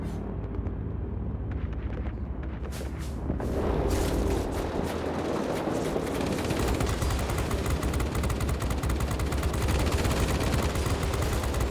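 Rapid machine-gun bursts from the tail gunner of a B-32 Dominator bomber in World of Warplanes, dense sustained firing over a roaring engine drone, growing louder after a quieter opening.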